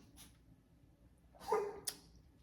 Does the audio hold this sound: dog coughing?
yes